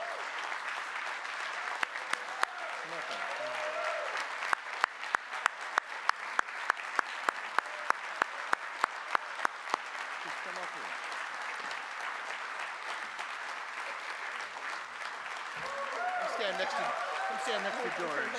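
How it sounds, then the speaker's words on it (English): An audience at a George Washington Carver Day celebration applauds in a long, sustained wash of clapping. Sharp, louder individual claps stand out near the front, and voices and cheers rise over the crowd toward the end. "Paxton, come on back in here and get another round of applause."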